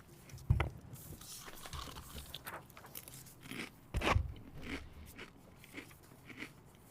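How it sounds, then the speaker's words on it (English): Crunchy chips are bitten and chewed right into a microphone during a town council budget workshop, producing a series of irregular crisp crackles and crunches, with two sharper loud bites standing out above a quiet room hum. "You're crunching your chips right into that mic"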